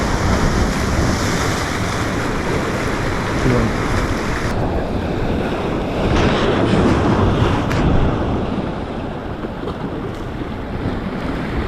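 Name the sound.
wind and waves at a fishing spot on the shore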